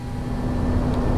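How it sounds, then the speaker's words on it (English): Landing gear lowering on an A320 airliner in the X-Plane 11 flight simulator during a snowy approach, heard as a loud steady mechanical rumble with a constant low hum under the cockpit noise. "Let's get the gear down."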